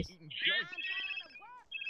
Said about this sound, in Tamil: யாரா ஃபோன் அடிக்கிறது? ஃபோன் அடிக்கிறான்.